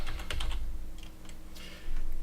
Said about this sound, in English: You will type in what you want